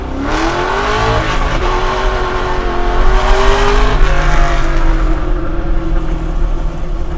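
A 600-horsepower Chevy C10 truck engine revs loud and close, with a deep, steady roar whose pitch climbs and eases over several seconds; no one talks.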